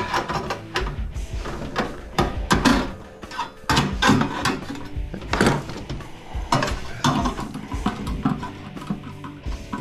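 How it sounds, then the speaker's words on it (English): Side cutters snipping small parts off a microwave transformer during copper scrapping, a string of sharp metallic clicks and clatters at an uneven rhythm, close and fairly loud, with no talking. "what I do here is I just cut these these little things with my side cutters"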